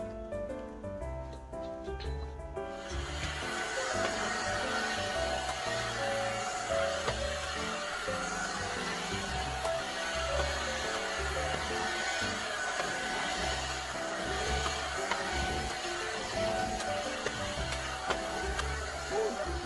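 A Boar Force B35 cordless vacuum cleaner works over bedding with a steady, close motor whir that runs continuously after a brief start.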